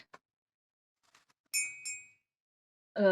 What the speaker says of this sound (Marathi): गाईच्या किंवा बेसिकली बैलांच्या गळ्यामध्ये जे घालतात घंटी ते आहे